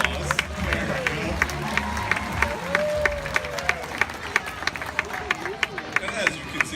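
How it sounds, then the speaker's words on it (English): Crowd at an outdoor tiger show with a swimming tiger named Mishka at Six Flags Discovery Kingdom applauds and cheers under steady babble and water splashing, with sharp rhythmic claps rising above a busy, noisy background throughout. "I think she deserves a round of applause"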